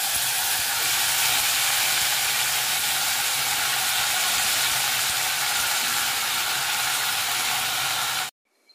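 Curry leaves crackle and sizzle in hot oil while a Konkani-style Chinese potato stir fry is prepared; a loud, steady, dense frying hiss runs almost the whole time and then cuts off abruptly near the end.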